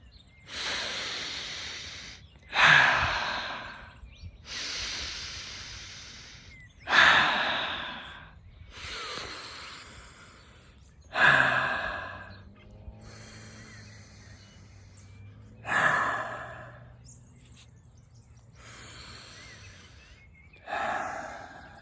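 Slow, deep breathing exercise with long drawn-out inhales and exhales repeating in a steady rhythm about every four seconds, close and clear with no talking.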